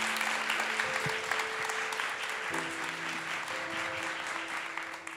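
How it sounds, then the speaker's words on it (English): Audience applause at a design lecture in a Taiwan bookstore hall, a dense, steady wash of many hands clapping at moderate distance, sustained evenly for several seconds with no talk over it. "So maybe we can give a round of applause to our Professor Dr. Peter Zek."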